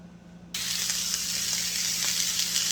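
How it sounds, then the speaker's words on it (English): Steady, loud sizzling of peppers frying in hot oil begins abruptly after a brief quiet moment and continues evenly, with no voices. "The peppers are sizzling."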